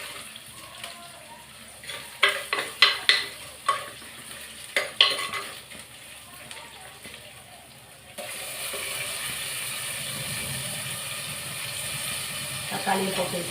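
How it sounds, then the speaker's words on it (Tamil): Onions and tomato fry in a pan with a soft sizzle, while a spoon scrapes and clacks against the metal in a quick burst of stirring. The frying then settles into a steadier, louder hiss, and a voice is faintly present. "வெங்காயம் ஓரளவு வதங்கிடுச்சு."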